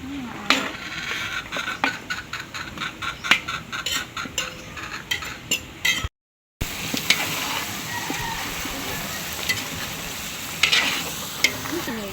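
Food sautéing in a pan for a fiesta dish, with a utensil stirring and scraping in repeated clacks over a continuous sizzle, close and fairly loud, with a brief gap midway.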